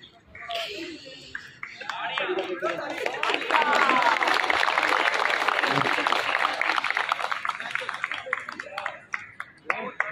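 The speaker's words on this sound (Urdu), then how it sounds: "زوردار تالیاں جناب" Audience at a Punjabi poetry mushaira breaking into loud applause that swells and holds for several seconds, with crowd chatter and a speaking voice mixed in at the start.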